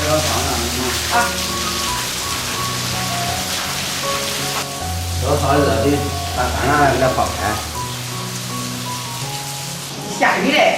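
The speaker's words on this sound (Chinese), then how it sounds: "下雨嘞" Steady hiss of falling rain runs throughout beneath someone talking in a kitchen, with low tonal hum and occasional clatter.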